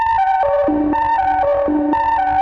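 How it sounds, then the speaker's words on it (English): Serum software synthesizer playing a bright, square-ish wavy patch with white noise layered in, stepping through a short repeated run of sustained notes with ringing resonances, loud and steady with no talk. "I just add bright white noise"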